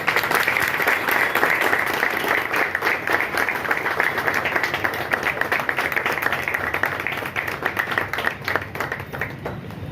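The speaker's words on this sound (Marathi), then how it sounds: "जोरदार टाळ्या।" Sustained applause from an audience at a police station welcome ceremony for a police inspector, steady dense clapping throughout, close and fairly loud.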